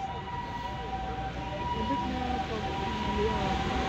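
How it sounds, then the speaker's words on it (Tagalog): An ambulance siren passes along a busy street in Osaka, Japan, its steady tone fairly loud over traffic and crowd noise, with people talking nearby. "Pinadaan niya yung ambulansya."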